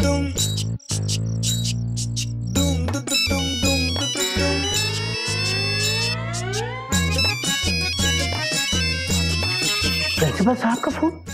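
A phone rings late at night, a loud electronic ringtone melody with rapid repeating tones and rising sweeps that play continuously and close by, with no talking over it.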